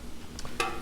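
Bacon and onions sizzling on a Blackstone griddle, a quiet steady frying hiss with a couple of brief scraping stirs, the louder one near the end, no talking.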